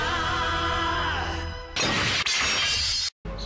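Kamen Rider Saber Wonder Ride book transformation toy effect, a loud electronic burst of tonal chimes followed by a bright shattering crash, a sharp cutoff and a brief pause before the sound resumes.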